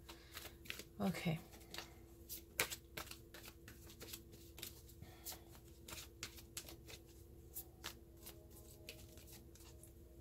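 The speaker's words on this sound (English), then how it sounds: "So let's pull some oracle cards." Oracle cards are shuffled close up, a rapid run of soft flicks and snaps throughout, with a brief spoken word near the start.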